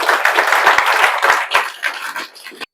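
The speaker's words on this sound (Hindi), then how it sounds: "तो इसके लिए आप लोग जोरदार ताली बजा दीजिए" A room of students at a coaching class gives a burst of hearty applause for top exam results, dense clapping that thins into a few scattered claps before stopping.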